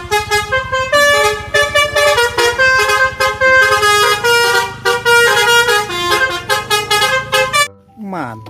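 A toy telolet bus horn plays a loud, melodic honking tune of rapid repeated tones, continuing for several seconds before cutting off abruptly near the end.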